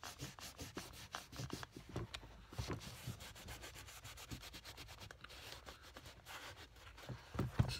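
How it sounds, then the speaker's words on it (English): A cloth soaked in thinner rubs old polish and wax off leather shoes, producing a continuous close, quiet scrubbing and rubbing sound in quick back-and-forth strokes with no talking. "Basically just removing some old polish and wax buildup."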